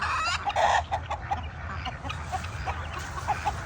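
Several farm chickens cluck in short, irregular bursts, fairly close, over a low background rumble of other farmyard noise.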